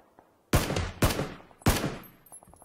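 Three sharp, loud gunshots in PUBG: PlayerUnknown's Battlegrounds, spaced about half a second apart, each with a short ringing decay, heard alone against near silence.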